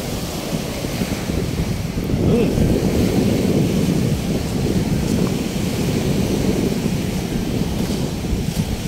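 Continuous rumbling surf on the Manila Bay dolomite sand beach with heavy wind buffeting the microphone, a loud steady wash of sea noise close by.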